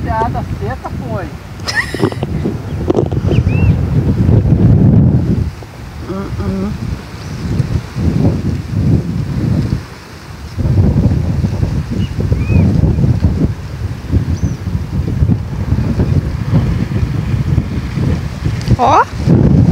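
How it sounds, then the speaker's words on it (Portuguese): Strong outdoor wind buffeting the microphone while a cast net is thrown for tilapia, a constant loud roar with people talking over it. "Muito vento, pessoal"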